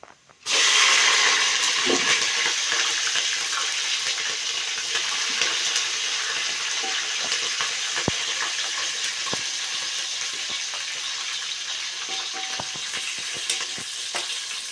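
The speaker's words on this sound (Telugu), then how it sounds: "ఇప్పుడైతే నేను మిర్చి వేస్తున్నా. ఇప్పుడైతే వేగినాయి" Green chilies sizzle steadily in hot oil in a home kitchen pan while sambar is being made, a loud continuous crackling fry with occasional stirring taps, no voices over it.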